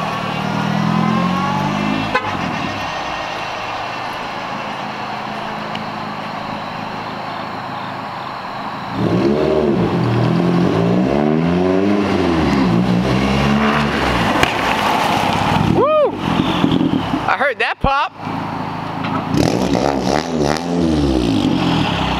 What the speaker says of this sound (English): Trying to get it to pop sometimes, but like if I let it clutch out in a second, it'll pop